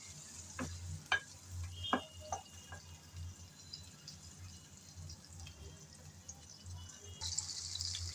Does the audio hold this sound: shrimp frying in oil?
yes